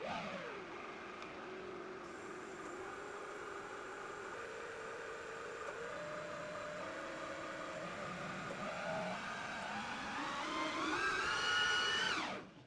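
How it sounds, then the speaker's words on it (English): A LinuxCNC lathe making a facing cut with coolant gives a steady whirring machining drone with shifting tonal whines, rising slightly before cutting off at the end. "Just watch what happens in Z as it does this facing cut."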